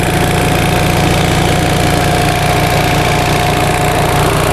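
A 1945 Onan generator engine runs steadily, a loud, close, continuous mechanical drone with a faint whine, slightly worn and burning oil.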